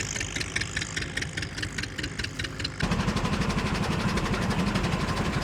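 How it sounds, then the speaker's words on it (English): A Minneapolis tractor engine runs steadily while belted to a shingle mill cutting cedar shake shingles, a loud rhythmic chugging that grows heavier and rougher halfway through as the load comes on. "Check out the Minneapolis tractor they've got belted up to the shingle mill over here."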